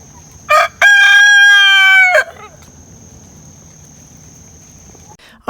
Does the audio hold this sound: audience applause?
no